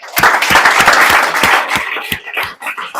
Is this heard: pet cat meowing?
no